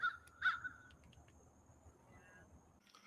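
Crows caw twice in quick succession near the start, loud and fairly close outdoors, then smaller calls trail off over a steady background hum with faint insect-like chirring.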